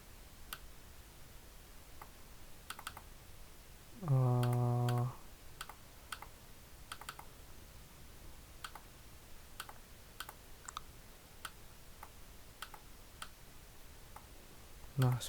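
Keyboard shortcuts are tapped on a computer keyboard during PLC programming: sparse, crisp key clicks are scattered throughout, with a brief electronic beep tone in the middle.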